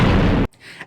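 A single loud cannon blast in a film, a heavy boom that cuts off abruptly and leaves a faint tail.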